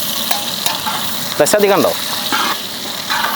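Sliced onion fries in oil in a cooking pot with a steady close sizzle and stirring scrapes, while a voice briefly speaks over it.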